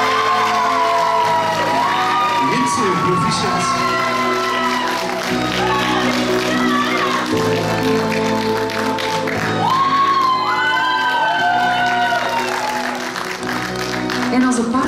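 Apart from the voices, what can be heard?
audience applause and cheering for a pageant winner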